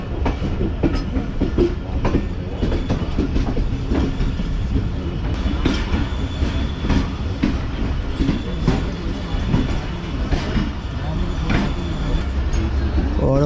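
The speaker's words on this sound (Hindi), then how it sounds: "प्लेटफॉर्म नंबर 5 पर अप्रोच बना रही है ट्रेन इस वक्त" Karachi Express train rolls into Multan Cantt station toward platform 5, wheels clacking rhythmically over rail joints with squeals and rumble, loud and close from on board, with voices in the background.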